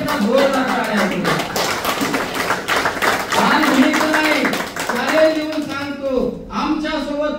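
An audience at a seminar claps and applauds steadily while someone speaks loudly over the clapping through a microphone.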